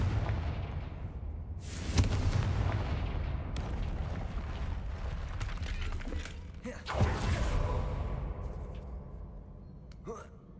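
A Confringo spell cast in Hogwarts Legacy produces two loud, crackling broadband blasts several seconds apart, each trailing into a rumbling decay, with speech present through the clip.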